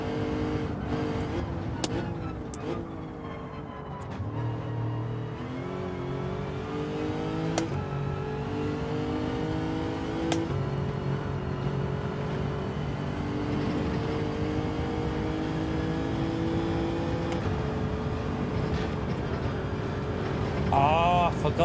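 A race car engine in the driving game Gran Turismo 7, droning steadily throughout with rising and falling pitch as it accelerates, shifts and brakes through corners, loud and continuous for over twenty seconds.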